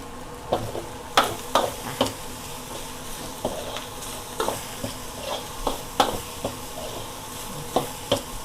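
Shallots stirred and frying in a hot pan for Thai-style fried rice, giving an irregular series of close scraping and sizzling bursts over a steady low crackle, with no voices.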